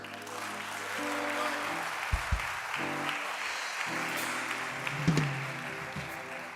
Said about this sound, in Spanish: Demos un aplauso para ver si.